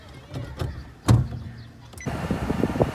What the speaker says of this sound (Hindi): तो ये देखें, गाड़ी स्टार्ट हो गई है